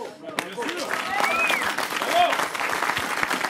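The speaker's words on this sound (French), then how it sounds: "Je vous propose de les applaudir, ils sont juste derrière moi." An audience applauds lycée students at an arts-and-crafts school event in Genech, with sustained clapping and a few cheers and voices mixed in.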